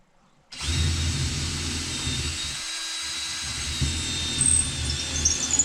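A power nut driver whirs steadily up close while driving a bolt into a wooden shed, starting abruptly after a quiet moment and holding a continuous high motor whine with a brief dip midway.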